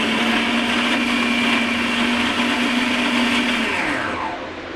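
A blender grinds pistachios into pistachio butter with a loud, steady whirring roar that holds for several seconds before slowing and winding down at the end.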